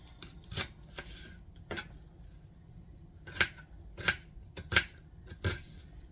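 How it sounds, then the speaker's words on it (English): Knife chopping onion on a cutting board in a home kitchen, several separate crisp chops spaced irregularly, fairly close and moderately loud with no talk. "We're going to chop us up some onion"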